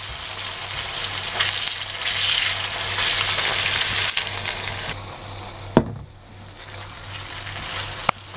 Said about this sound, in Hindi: ये देखें जैसे जैसे एग कुक हो रहा है साइडों से